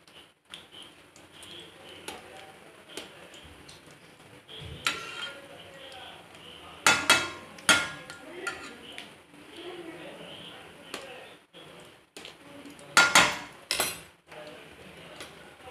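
A utensil scrapes and clinks against a pan while jackfruit gaarige fry in coconut oil, with scattered sharp knocks and metallic taps that are sometimes louder, and a person talking in between.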